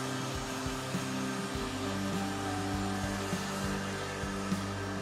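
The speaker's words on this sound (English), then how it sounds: "I'm using a shop vac and a brush attachment to fully remove all the sawdust." A shop vac fitted with a brush attachment runs steadily while cleaning sawdust off a wooden guitar body, a close, continuous motor whine with faint scraping bumps from the brush.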